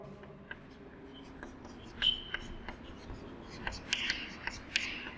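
Chalk or a marker squeaks and taps on a board while a chemical name is written out, a series of short faint scratches and clicks over quiet room noise, with no clear talking.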